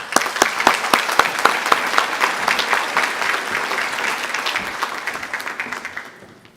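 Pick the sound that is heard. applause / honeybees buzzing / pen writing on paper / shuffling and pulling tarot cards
applause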